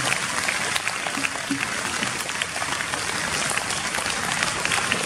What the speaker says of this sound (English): great assembly requires great applause